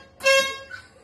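Horn of BKV 7122 tram, sounded from the driver's cab: a single short, bright harmonic blast of about half a second, fairly loud and close, fading quickly.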